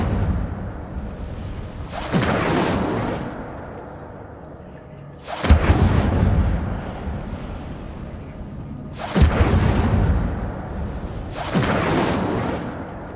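Three separate whooshing, roaring bursts of fire ring out from the Incendio spell in Hogwarts Legacy, each flaring loudly and then fading over a couple of seconds, with quieter gaps between casts.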